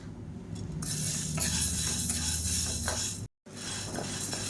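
Green gram dry roasting in a pan, stirred steadily, giving a continuous close scraping rustle with light clinks of a utensil against the metal, briefly cut off near the end.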